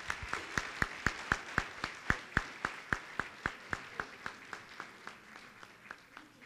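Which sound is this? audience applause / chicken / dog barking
audience applause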